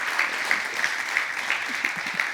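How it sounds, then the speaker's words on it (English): Applause at a summit gathering for two participants, Andrew and Laura: a steady, moderately loud round of clapping from a seated audience, sustained across the whole moment without voices over it. "Please, another round of applause for Andrew and Laura."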